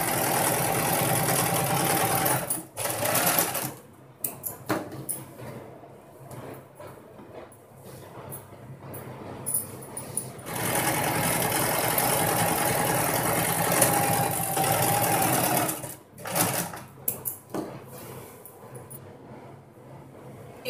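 A sewing machine stitches the side seam of full-circle palazzo pants, its motor running in steady bursts of several seconds separated by short pauses, close and fairly loud, with no talking.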